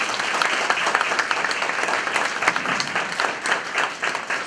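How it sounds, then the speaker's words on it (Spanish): Audience at an economics lecture gives a warm round of applause to welcome a United Nations official and international consultant, continuous crackling clapping from many hands, moderately loud and steady. "que lo recibamos con un muy fuerte aplauso en esta nuestra casa"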